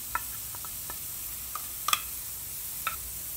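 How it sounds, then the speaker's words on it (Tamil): Spice powders and green chillies sautéing in a pan for chicken varuval, a soft steady sizzle broken by scattered light ticks and scrapes of stirring. "எல்லாம் சேர்த்து நல்லா வதக்கிடலாம்"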